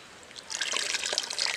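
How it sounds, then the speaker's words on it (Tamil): Tamarind water pours into a pot of crab curry, a brief soft trickle and splash of liquid that starts faintly and grows over about a second. "புளி கரைச்சி வச்சாச்சு, புளி தண்ணி ஊற்றிடுவோம்."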